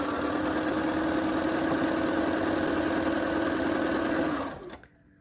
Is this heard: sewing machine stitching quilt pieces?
yes